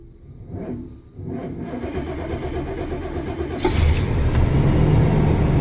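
The engine of a 1986 Beaver motorhome cranks over for a few seconds with a rough, uneven churn, then catches on a cold start and settles into a louder, steady running rumble close by.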